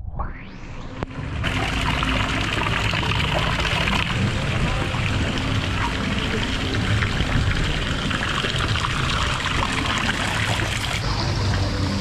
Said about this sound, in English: There's like little waterfalls.